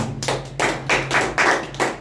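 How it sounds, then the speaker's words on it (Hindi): A church congregation claps for the Lord in a few quick bursts, about five rhythmic rounds of hand claps over two seconds, fairly close and with no talk. "एक अच्छा ताली बजाएं प्रभु के लिए।"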